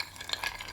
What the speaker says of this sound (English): When stirring a cocktail